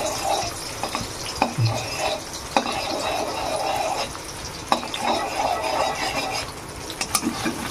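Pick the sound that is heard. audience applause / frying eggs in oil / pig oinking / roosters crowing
frying eggs in oil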